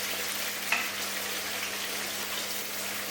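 Prawns frying in a pan with base sauce, a steady hissing sizzle with a faint crackle, a small clink near the start, and a low hum underneath throughout.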